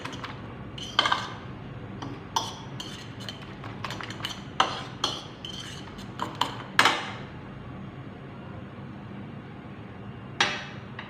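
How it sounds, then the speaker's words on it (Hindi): Bread and egg mixed in a bowl with a utensil, heard as irregular clinks and taps against the bowl with a few sharper knocks, close by and without voices. "और अच्छे से मिक्स कर लेते हैं।"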